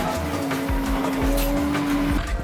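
A car drifts in a racing simulator game on a moving seat, its engine droning steadily while tires squeal continuously, with no voices.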